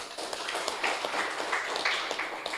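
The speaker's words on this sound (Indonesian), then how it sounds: "Tepuk tangan untuk NU." An audience claps for the NU organisation in an Indonesian speech hall, a dense patter of hand claps spreading evenly across the room at moderate level.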